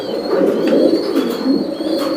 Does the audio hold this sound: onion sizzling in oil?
no